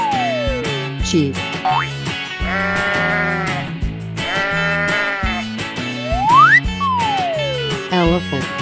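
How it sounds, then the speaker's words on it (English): A sheep bleats in a 3D animal video game, over bouncy cartoon music with sliding boing effects and voices. "Sheep."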